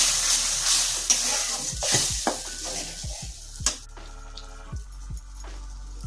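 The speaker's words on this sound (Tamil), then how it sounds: "புளி கரிச்சு ஊற்றிட்டுருக்கேன்" Tamarind water is poured into frying masala for a dried fish dish, giving a loud burst of sizzling that settles into a quieter crackle, with several sharp clinks of a spoon against the pan.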